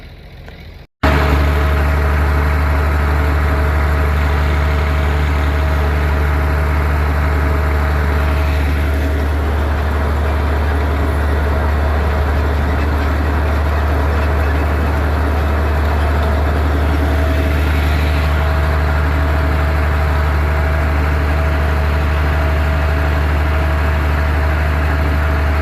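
A steady, loud low engine drone from a Farmall 806 or John Deere 7000 tractor planting cover crops, running continuously and close by after a brief quiet start, with no voices.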